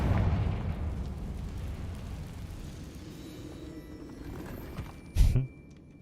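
A Confringo blasting spell in the video game Hogwarts Legacy bursts as a single short, punchy explosion near the end, over a steady background rumble of game ambience, with no talking.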